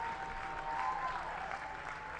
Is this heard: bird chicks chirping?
no